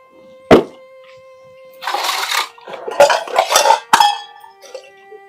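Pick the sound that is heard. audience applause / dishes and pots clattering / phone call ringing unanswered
dishes and pots clattering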